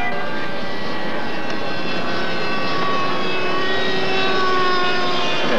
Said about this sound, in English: We've got two F-86s airborne, burning up the sky.